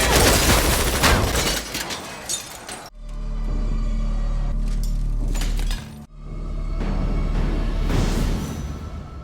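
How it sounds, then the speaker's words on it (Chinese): A submachine gun fires repeatedly at a car in a crime drama set on the Navajo reservation, with dense bursts of loud shots and shattering glass, then a low ringing drone broken by further flurries of impacts. "刹那间枪声大作，车身被打成了马蜂窝"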